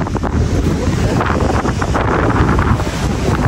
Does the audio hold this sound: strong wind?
yes